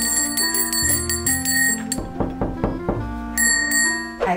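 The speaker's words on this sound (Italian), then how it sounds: "Ecco, hanno suonato il campanello." Doorbell chimes ringing indoors, a loud, close series of bright repeated tones with a short burst of quick strikes in the middle and another ring near the end.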